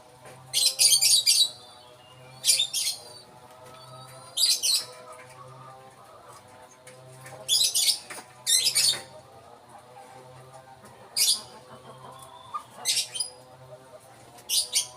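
Sharp, high-pitched calls from a bird in a cage trap ring out in short bursts at irregular intervals over a faint steady hum, with no talking.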